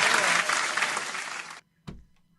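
Sustained applause from an audience at a live show honouring women, loud and dense for about a second and a half, then cut off abruptly and followed by a single short thump.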